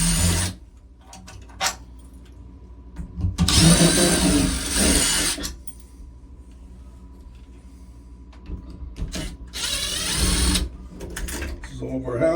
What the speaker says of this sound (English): Take off the faceplate.